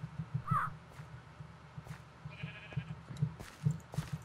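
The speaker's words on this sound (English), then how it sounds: "I wish I could take them back and just put them so I always hear the little bird sounds." Ambient bird calls from the Twilight Forest in modded Minecraft: a few short chirps and a warbling call, quiet and spaced out over a low rhythmic background hum.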